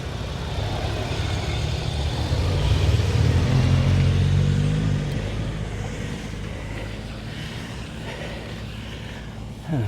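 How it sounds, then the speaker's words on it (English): Two cars and two motorcycles pass along a road in the English Lake District near Eskdale, a broad engine and road rumble swelling then fading over several seconds, with wind noise buffeting the microphone. "Land Rover to lean on while those 2 cars and 2 motorcycles passed."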